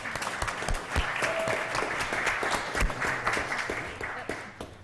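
A council meeting audience applauds steadily throughout, a dense wash of many hands clapping at moderate volume from across the room, with no talk.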